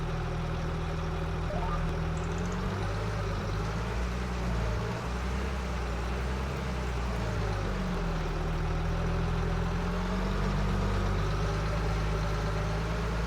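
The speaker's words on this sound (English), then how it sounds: "I want to drive the big tractor myself" A big tractor's engine in Farming Simulator 25 drones continuously and loudly at a low pitch on a Montana homestead farm, its pitch shifting slightly as it works, with no talk.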